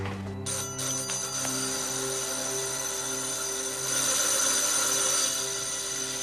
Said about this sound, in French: Vous avez coincé votre doigt dans la sonnette ou quoi?